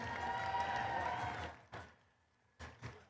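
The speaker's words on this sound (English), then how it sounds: "let's give a big round of applause to our Alliance 6" Audience applause and cheering at a FIRST Tech Challenge robotics qualifying tournament. A dense, loud burst of clapping fades out, then a few brief scattered claps and thumps follow.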